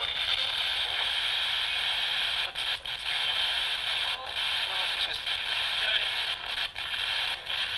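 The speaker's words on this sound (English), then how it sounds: "You're going to hear radio station snippets, white noise." A ghost box radio sweep hisses with dense white noise, cut by brief dropouts and fleeting bits of station sound as it scans, steady and fairly loud throughout.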